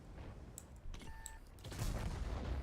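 Tank cannon fire in World of Tanks, with a sharp shot around the middle and a heavy, rumbling blast as the enemy tank's ammunition rack detonates near the end, all loud and with no voices.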